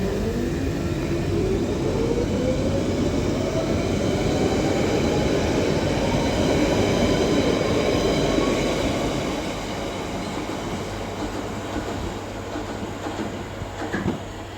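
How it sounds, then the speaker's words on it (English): A London Underground Central Line 1992 stock train departs South Ruislip, its loud, steady rumble of motors and wheels accompanied by a rising electric whine that slowly fades as the train pulls away. "Now departing is going to be the London Underground Central Line service to Epping."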